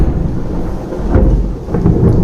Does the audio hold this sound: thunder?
yes